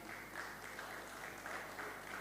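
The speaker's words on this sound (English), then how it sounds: "Please, a round of applause for Mr." Audience applause for a guest at a travel expo in Ibadan, a steady wash of clapping from a crowd, fairly quiet and even throughout with no talk over it.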